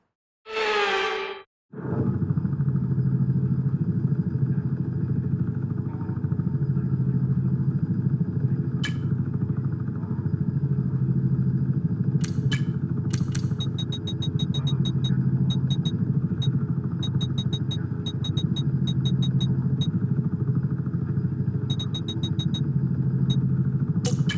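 F1 cars from the F1 24 video game roll on the formation lap with a steady low engine drone. A brief loud burst opens the clip, and sharp intermittent high clicks and chirps sound over the engine noise.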